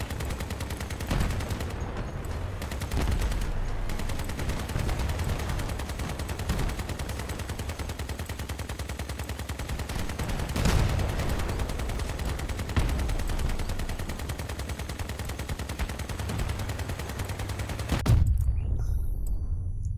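Dual Reaper miniguns firing in Crossout: a dense, unbroken mechanical roar of rapid fire that holds for most of the stretch, with a few heavier thumps, before cutting off near the end.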